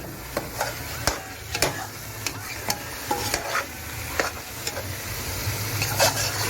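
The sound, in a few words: tomatoes frying in a pan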